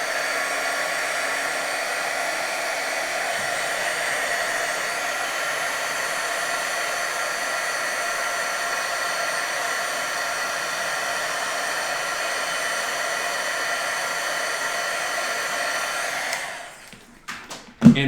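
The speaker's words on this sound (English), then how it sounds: "But I'm going to go in with my heat tool quick" Steady whooshing roar of a heat embossing tool blowing over a card, holding at an even level for about sixteen seconds before cutting off with a few brief clicks and handling noises.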